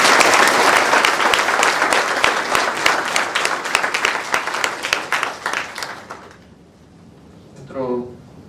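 An audience at a lecture hall applauds loudly and densely for about six seconds, then the clapping fades out and a voice follows briefly.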